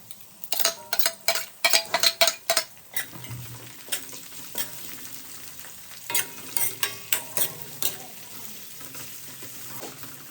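Onion and chilli frying in a pan, a soft sizzle punctuated by bursts of rapid metallic clinks and scrapes as a spoon stirs against the pan, close by, in irregular clusters.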